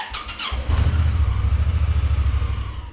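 Honda Pioneer 1000 UTV engine cranking briefly with a whirring starter, then catching and settling into a steady, close, pulsing low idle, no talk.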